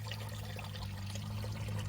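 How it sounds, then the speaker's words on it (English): Fluid draining from the oil pan of a flood-submerged Pontiac Solstice Ecotec engine, a continuous close pouring and trickling into a catch pan with a low steady rumble. "finally, here comes some oil"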